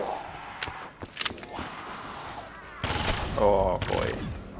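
Gunfire in Call of Duty: Black Ops III zombies mode on the Kino der Toten map: scattered single shots, then a dense rapid burst near the end, mixed with other game effects.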